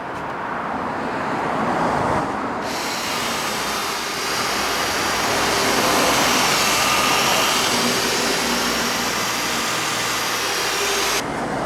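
A car polisher spins a polishing pad loaded with Menzerna 3500 super finish compound, a loud, steady motor whir and pad rush starting abruptly after a moment of quieter noise and holding nearly constant before cutting off near the end.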